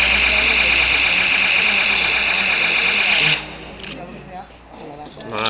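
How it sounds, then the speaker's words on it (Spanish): A car engine in the PUBG Mobile shooter game, droning loud and steady with a buzzing, knocking tone before cutting abruptly to quieter game ambience. "Coche."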